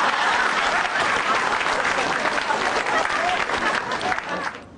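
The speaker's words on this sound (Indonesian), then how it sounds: "Tepuk tangan buat saya." A comedy show audience at a televised stand-up performance bursts into loud, sustained applause mixed with crowd noise, tapering off near the end.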